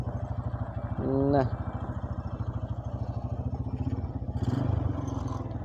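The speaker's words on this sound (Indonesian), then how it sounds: "suaranya geng khas banget ya, walaupun ada suara gelitik-gelitiknya dikit di area mesin" A Honda Tiger motorcycle engine idles with a steady pulsing thump and a slight ticking rattle from the engine, briefly revving twice, while someone speaks a word near the start.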